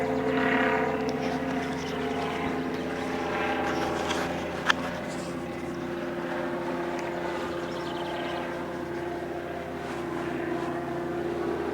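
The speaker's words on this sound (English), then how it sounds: "it looks like a helicopter" Steady low droning of a helicopter passing at a distance over a campground, a constant engine hum with faint rhythmic chopping, no voices.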